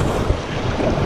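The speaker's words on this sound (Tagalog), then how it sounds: "sumobra naman ang lakas ng amihan" A strong northeast monsoon wind buffets a fishing boat at sea near Talim Island, a loud, close, steady roar of wind noise with a dull rumble of water beneath, no voices.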